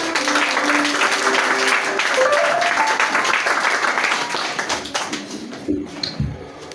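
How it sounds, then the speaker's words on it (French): A church congregation applauds during a Baptist church anniversary celebration, with sustained clapping under music and a held tone, gradually thinning toward the end as the crowd settles. "Soit applaudissement l'église là."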